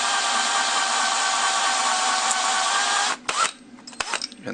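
A power drill bores a hole through a backpack, a steady loud whine lasting about three seconds before it stops, followed by a few scattered handling knocks.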